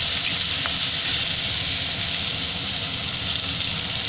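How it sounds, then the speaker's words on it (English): Red chili and chopped onions fry in a pan, giving a loud, continuous hiss that stays even and close for the whole stretch. "Now fry the red chili for some time and then add the cut onions."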